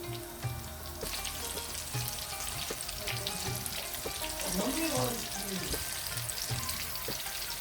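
Stuffed peppers with peppery mince filling fry in a pan until light brown, a steady sizzle with stirring clatter and faint water noise, growing louder midway through.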